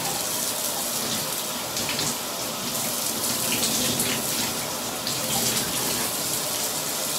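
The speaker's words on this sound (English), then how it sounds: "now that the water is, like, warm, I'm going to wet my hair" Warm tap water gushing steadily from a faucet to wet hair, a loud, close, continuous hiss and splash with no pauses and no talk.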